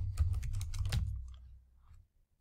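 Typing on a computer keyboard while entering a server address to connect to a Synology DS718 NAS, a quick close run of clicky keystrokes lasting about a second, then fading into quiet room noise.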